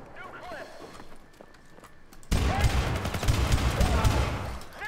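Blind gunfire round a corner in the video game Syndicate: a loud, dense burst of rapid shots erupts midway and keeps going, following quieter game ambience, with voices talking over it.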